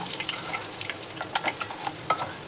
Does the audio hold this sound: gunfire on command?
no